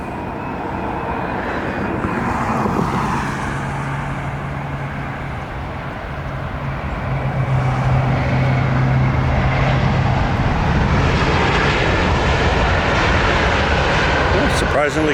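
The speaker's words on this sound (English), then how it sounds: "This should be pretty loud on the reverse thrust." A jet airliner lands nearby and roars loudly under reverse thrust, with a broad rumbling engine noise that swells midway and stays strong to the end.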